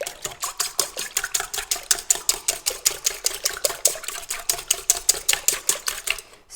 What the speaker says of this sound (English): We're going to mix this with a fouet.